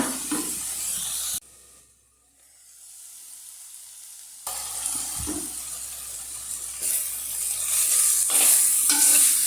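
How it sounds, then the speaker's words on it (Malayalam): Aviyal of jackfruit seeds and raw mango cooking on a low flame gives a steady close sizzling hiss with stirring scrapes. It drops to near silence for a few seconds, then the sizzle returns and grows brighter. "സിമ്മിലിട്ട് വേവിക്കാൻ പോവുകയാണ്"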